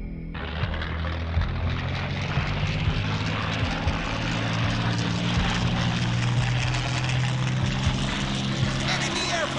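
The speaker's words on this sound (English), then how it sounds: "Enemy airplanes approaching." Enemy propeller airplanes approach in the video game Combat Wings, a steady loud droning engine roar that fills the whole stretch without a break.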